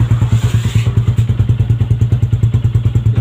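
A Yamaha Sniper 150 motorcycle engine idles steadily up close, its low, rapid thumping pulse repeating evenly throughout with a slight metallic clatter.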